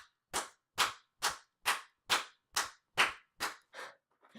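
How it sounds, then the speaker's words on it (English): One person claps by themselves in a slow, even rhythm, nine sharp, close claps about half a second apart, then a softer tenth clap and a quieter trailing sound. "you're going to get a little round of an applause from Landon here."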